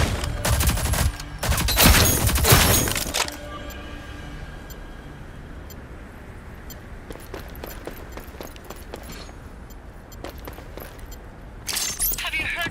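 Bombs explode during a 3v3 custom video game match, loud crashing blasts and rapid gunfire bursts at the start and end, with quieter scattered shots in between, while players talk over them.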